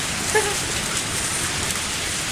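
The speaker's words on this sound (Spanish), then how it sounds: "¿No está lloviendo?" Steady rain from the video game Lucky Dog 1+ Bad Egg hisses evenly throughout, a dense, unbroken wash of falling drops with no voices.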